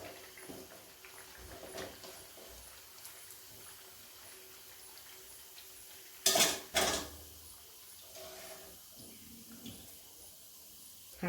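Fried parippu vada lifted out of hot oil in a pan, quiet bubbling and trickling under a couple of loud metallic scoops and clatters from a ladle midway, then softer clinks.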